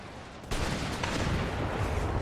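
Grapeshot cannon fire in Empire: Total War bursts in abruptly and continues as a dense, rumbling crackle of shots for the rest of the moment, heard alone.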